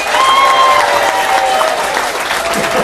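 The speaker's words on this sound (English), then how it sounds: "Round of applause for the captain's side." A cruise ship audience at a cooking show claps in a loud, continuous round of applause, with light cheering and a whistle-like tone mixed into the crowd noise.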